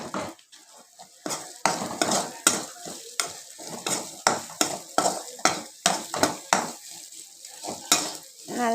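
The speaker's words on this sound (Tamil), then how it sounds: "போட்டு நல்லா கிண்டிக்கிட்டே இருக்கணும்." A spoon scrapes and stirs repeatedly in a pan of sizzling masala, with rhythmic strokes about twice a second, close and fairly loud.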